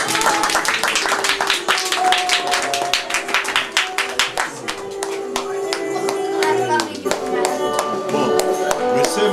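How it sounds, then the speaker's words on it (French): Audience clapping and applauding a singer after a performance at a singing school, sustained dense claps with some voices mixed in throughout. "Allez, on applaudit très fort."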